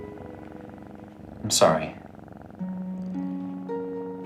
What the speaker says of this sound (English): He's still purring.